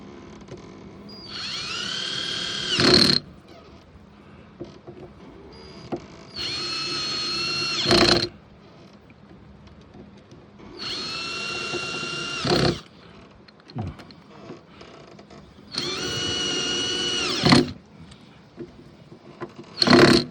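A power drill driving screws while a smart lock is installed on a door, four separate whirring runs of a few seconds each with short pauses between them, close and loud.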